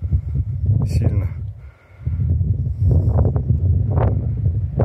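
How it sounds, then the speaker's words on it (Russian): Strong mountain wind in Crimea buffets the microphone with heavy low rumble, easing briefly midway before gusting again, while a voice speaks. "там вообще такой ветер нереальный, просто руки мерзнут"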